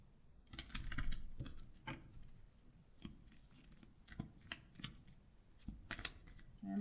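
A deck of Moonology oracle cards being shuffled by hand, with irregular bursts of crisp riffling and tapping, close and fairly quiet, with no talk.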